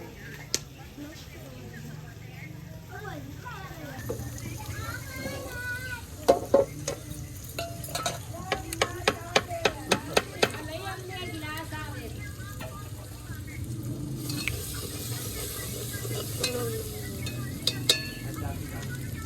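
Gundla saag stirred and frying in a turmeric tadka, a steady sizzle carrying through with sharp scrapes and clinks of the spoon against the pan, and a louder hiss breaking in near the end.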